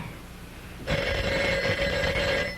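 An old telephone bell rings loudly and steadily for nearly two seconds after a quiet stretch in a French-language scene.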